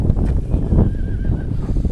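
A three-year-old racehorse shifts about during a spell inspection, with hooves clopping on hard ground and a brief whinny-like tone mixed into close, fairly loud movement noise, no talking.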